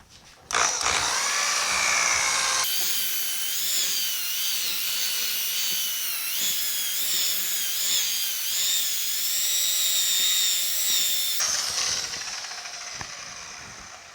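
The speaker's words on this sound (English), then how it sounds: "I polished plenty of cars with this polisher. It's just a Harbor Freight job." A Harbor Freight car polisher runs on the paint of a 1950 Chevy five-window truck cab, its motor whining steadily and loudly for about nine seconds with slight pitch wobbles before winding down, with no talk.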